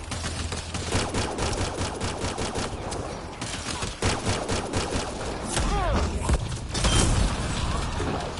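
Dense gunfire rattles through combat in Mass Effect: Andromeda, with rapid automatic bursts and heavy thuds packed close together at high volume, a voice briefly heard beneath.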